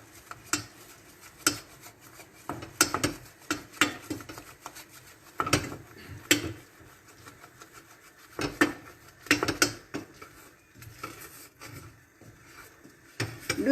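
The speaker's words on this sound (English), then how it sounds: "Keep on stirring for 2 or 3 minutes." A spoon scrapes and stirs thick Mohanthal mixture around a pan in repeated irregular strokes, each a short gritty scrape close up, with brief pauses between and no talking.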